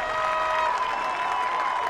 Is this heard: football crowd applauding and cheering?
yes